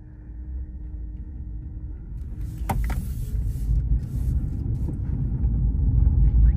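A 2002 Toyota RAV4 EV electric car driving down the road, giving a steady low rumble of tires and road noise that builds gradually, with a brief clack partway through and no engine roar.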